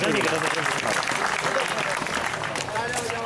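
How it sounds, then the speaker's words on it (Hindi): Guests at a grand farewell party for a government boys' high school headmaster clap together in a sustained, fairly loud burst, with voices talking over the applause throughout. "वो भी तालियां तो बजा दो सारे, तालियां"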